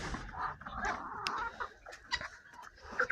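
Chickens cluck and murmur close by in soft, irregular bursts, with a rooster's voice mixed in among the flock.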